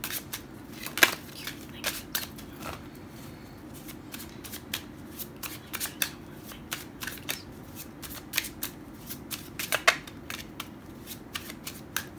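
Tarot cards are shuffled by hand in a steady run of crisp riffling clicks and soft slaps, close and fairly quiet over a low background hum, with no talking.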